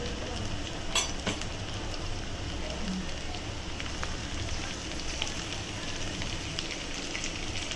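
Curry leaves hitting hot oil with onions in a pan while cooking a Kerala-style mackerel (bangada) fish curry, giving a steady, dense sizzle and crackle with a few sharper pops, close by and without talk.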